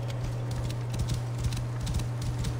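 Steady rhythmic clip-clop of horse hooves over a constant low drone, moderately loud and close, from the video game Assassin's Creed Origins.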